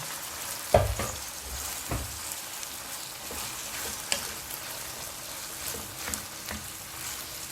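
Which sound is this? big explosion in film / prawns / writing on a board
prawns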